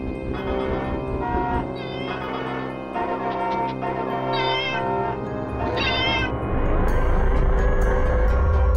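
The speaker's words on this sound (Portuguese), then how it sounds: "Vamos agora encontrar os três gatos de rua." Stray cats meow in the video game Gex 3: Deep Cover Gecko, with several drawn-out, wavering cries over a steady musical backing, loud and close.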